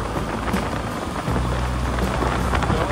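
Rain falls steadily during a motorbike ride on the Mumbai–Goa highway, a continuous close wash of drops and rumble with a brief dip partway through, and no talking.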